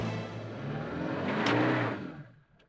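A 2023 Toyota Fortuner driving off-road in sand dunes: its engine revs and surges with a rough, steady roar that swells and then fades, heard alone without speech.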